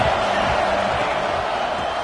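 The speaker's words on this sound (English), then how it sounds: "This crowd trying to make life miserable for this offense." Stadium crowd at a football game roars in a steady, loud, dense wash with no breaks, the broad murmur of a big audience pressing on the offense.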